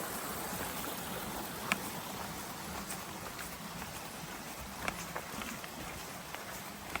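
Waterfall on the Appalachian Trail, a steady broadband rush of falling water heard from a short distance, with occasional faint footstep clicks.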